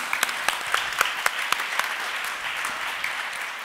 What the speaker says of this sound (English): So please make an applause for you.